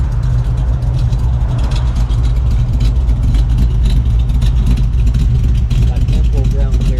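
A 1959 Chevy engine idles steadily with its exhaust cut off, a loud, continuous low rumble with a constant throb that fills the whole stretch without pause.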